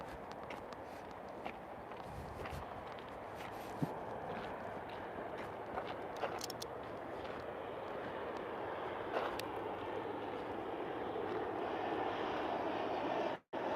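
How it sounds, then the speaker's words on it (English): A small plane comes in to land at dusk, its engine a steady, fairly faint drone that swells slightly toward the end, with scattered light clicks and knocks nearby and no talk. "Nice, beautiful plane"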